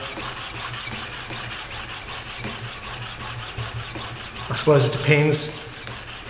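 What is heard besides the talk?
sanding a drill gauge by hand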